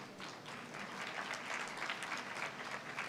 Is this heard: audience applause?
yes